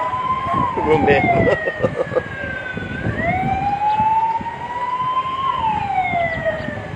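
Fire truck siren wailing at a school fire at San Jose Elementary School in Makati City, its pitch rising and falling in long sweeps, loud and steady over traffic and crowd noise.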